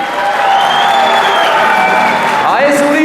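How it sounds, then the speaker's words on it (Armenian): Wedding guests clap together in a busy hall, a dense, steady patter of applause running throughout, with a voice and tonal sounds carrying over the crowd. "Այ հիմա մեր Ալեքսի Մեսայի կողմն է ծափեր տալի"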